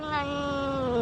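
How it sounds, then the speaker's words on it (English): A recorded cat lets out one loud, drawn-out meow with a rising, wavering pitch, played back on a radio show with no talking over it. "That's a cat from the deep south."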